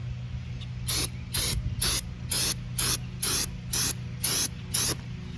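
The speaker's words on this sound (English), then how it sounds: "We can clean it though with some brake clean." Brake cleaner sprayed onto a fuel pump strainer from a 1991 Buick: about nine short, evenly spaced hissing bursts, close and fairly loud, over a steady low hum.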